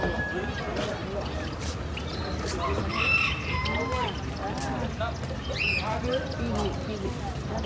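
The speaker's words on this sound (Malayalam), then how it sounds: "കോഴി" Chickens cluck and a rooster crows nearby, with people talking over the birds throughout.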